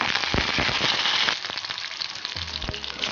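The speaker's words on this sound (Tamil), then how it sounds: "ஒரு வானலியில் எண்ணெயை ஊற்றிட்டு கடுகு உளுத்தம் பருப்பு போட்டாச்சு, சின்ன வெங்காயம் போட்டுட்டேன், பச்சை மிளகாய் போட்டாச்சு, கருவேப்பிலையும் போட்டுட்டு நல்லா வதக்கிட்டு" Mustard seeds, urad dal, shallots, green chilies and curry leaves fry in oil in a pan for sambar, giving a loud, dense sizzle with sharp pops and crackles that eases slightly midway, with occasional stirring clanks.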